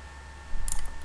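Computer mouse clicking, with a couple of quick, close clicks near the end of a short stretch of quiet room hum.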